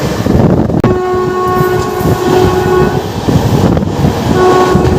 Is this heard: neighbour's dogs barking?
no